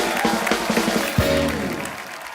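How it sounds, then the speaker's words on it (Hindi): Studio audience on The Kapil Sharma Show, a comedy talk show, clapping loudly for the guest actors, with a musical sting or sound effect cutting in partway through and ringing out over the applause. "एक बार अक्षय पाजी, इलियाना और ईशा के लिए जोरदार तालियां"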